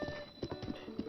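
Horse hooves clip-clop in Zelda: Breath of the Wild, a quick steady trotting rhythm close by, with no talk over it.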